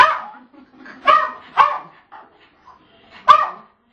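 A black dog barking and yipping indoors near a toilet, several sharp close barks in an uneven sequence with quiet gaps, loud and alone.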